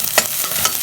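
Garlic, onion and ginger fry in a pan with a bright, steady sizzle and a couple of quick stirring scrapes, heard close and alone.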